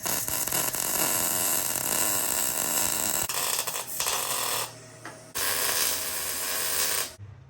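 MIG welding of rock sliders onto a stripped, cleaned 2018 Toyota Tacoma frame. Loud, steady crackling buzz runs in several long bursts, each cut off abruptly, with brief quiet gaps between the beads.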